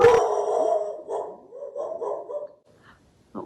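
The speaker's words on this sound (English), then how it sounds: "my dog has detected something happening" A dog barks close by on a trail near Sonora Pass at Yosemite's northern edge, one sharp loud bark followed by softer woofs and whines, then quiet.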